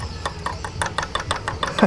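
A Honda Supra 125 motorcycle engine with one damaged component idles with a loud, regular knocking tick repeating about four times a second, the rattle carrying through the whole engine, close and alone.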